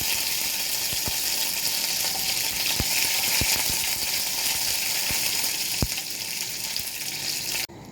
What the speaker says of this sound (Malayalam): ഇതിലേക്ക് നമ്മൾ എടുത്തു വെച്ച വേപ്പല ഇട്ട് കൊടുക്കുകയാണ്